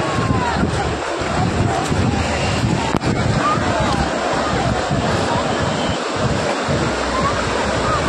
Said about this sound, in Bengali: ও ঢেউ দেখুন, জাস্ট বড় বড় ঢেউ।